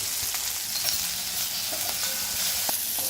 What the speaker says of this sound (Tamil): வெண்டைக்காய் நல்லா பாருங்க ஃப்ரை ஆகிடுச்சு, ஒத்தையாக முறுன்னு ஃப்ரை ஆகிடுச்சு